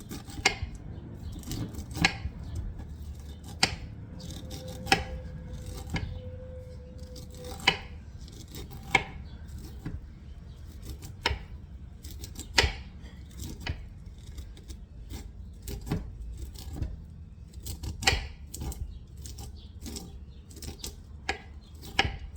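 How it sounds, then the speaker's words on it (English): Corn kernels scraped off the cob with the back of a butter knife, a series of sharp scratchy strokes at an uneven rhythm over a low background, close and moderately quiet, no speech. "They want us to use the back of the butter knife and scrape off whatever we can get"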